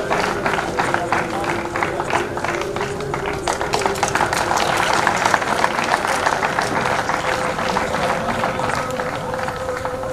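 An audience at a passing-out parade ceremony applauds in a sustained burst of dense, fairly steady clapping. A voice speaks faintly under it.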